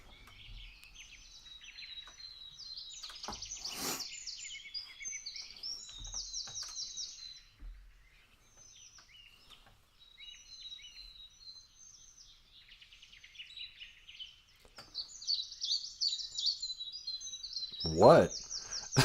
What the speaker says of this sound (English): The Beneshi, the birds. What do you want, birds?